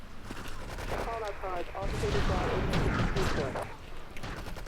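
Rocket explosion in Grand Theft Auto III, a loud sustained rumbling blast with crackling debris lasting several seconds, mixed with game sound effects and voices.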